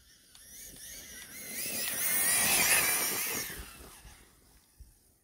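A brushless RC car conversion of a Laegendary nitro model passing by, a high electric whine that swells as it approaches, peaks close, then fades away.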